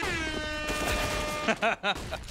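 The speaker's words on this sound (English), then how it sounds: "There's a rap air horn." An air horn sound effect on an ECS Season 5 Counter-Strike esports broadcast blares as a brassy sustained tone for over a second, followed by a few short punchy bursts and blasts.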